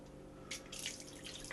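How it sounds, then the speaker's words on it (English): Cold water runs from a kitchen tap into a sink, a soft hissing splash that swells after a brief start and continues steadily, faint and close. "I'm going to run cold water in."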